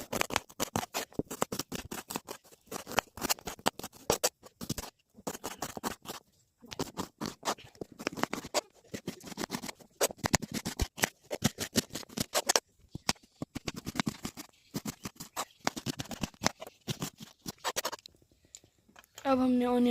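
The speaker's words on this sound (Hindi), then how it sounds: "हम ऑनियन चॉप करेंगे।" Onions being chopped on a board, rapid uneven knife taps in quick bursts with short pauses, close and crisp, with a brief voice near the end.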